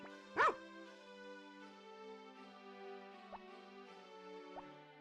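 A single short bark from a dog in the farming video game Harvest Moon: Back to Nature pops out over steady game music, then the melody carries on quietly.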